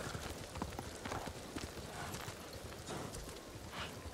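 A horse gallops in the Ghost of Tsushima game, its hooves hammering out a quick, steady clip-clop rhythm at moderate volume with a faint background rustle.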